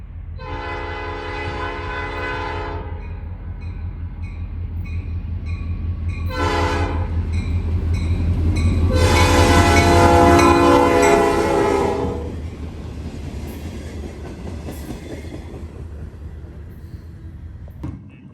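A freight train led by a rebuilt Admiral Cab SD40-2 locomotive rolls past with a heavy diesel rumble and rail noise, and its horn sounds loudly in two long blasts close by.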